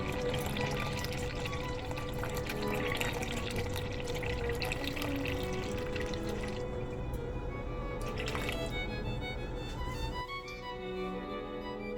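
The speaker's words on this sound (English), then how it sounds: "Add 200 milliliters of warm water, around 105 degrees Fahrenheit, to the dry ingredients." Warm water at about 105°F is poured into crumpet dry ingredients, a continuous gurgling pour with a trickling, bubbly texture that shifts in pitch as it fills, close and alone.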